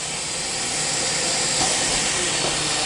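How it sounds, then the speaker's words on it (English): Pneumatic piston on an SRD rotor machine firing to rock the rotor upright, heard as a loud, steady broadband hiss of venting air that swells slightly midway, alone with no talk. "Once we hit that, our upright piston fires and is now going to rock our rotor into the normal upright position."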